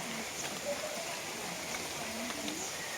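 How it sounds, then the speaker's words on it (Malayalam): Steady rain falls outdoors beside a wall covered in plants, with no houses nearby, under an umbrella. It makes a soft, even hiss of drops with a few faint patters throughout. "മഴയാ കുടയൊക്കെ ചൂടിയിട്ടാണ് വീഡിയോ എടുക്കുന്നത്"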